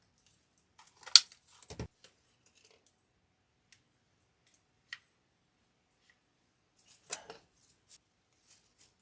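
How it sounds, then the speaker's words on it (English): Scissors cut a flower stem in half for a grapevine wreath, giving a sharp snip and a short thud early on, then a few faint clicks and a later cluster of quieter snipping sounds. "I'm going to take another stem and I'm going to cut it in half"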